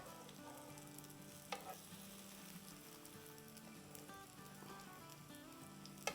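Aloo kabab sizzle and fry in a hot pan, a dense, continuous crackle with a few brief clinks of utensils, faint and close, with no talk.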